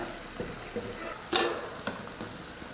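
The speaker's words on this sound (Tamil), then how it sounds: "நல்லா வடை வெந்து கலர் மாறி வரட்டும்" Vada deep-frying in hot oil for a vegetarian feast, a steady low sizzle with a few soft scrapes and one louder clatter of a utensil against the pan partway through.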